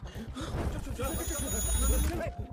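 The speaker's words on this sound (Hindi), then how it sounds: "उसके पीछे कोई फोन आया किसी भद्रा का।" A telephone rings in a scene from a Hindi movie, a steady electronic ring with a sustained high tone running through the middle of the clip, mixed under background music and ambient sound.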